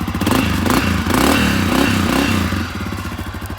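KTM 300 XC-W Erzbergrodeo dirt bike engine running loud and close, a dense two-stroke rasp with uneven throttle surges and some rattling clatter, heard alone without talk.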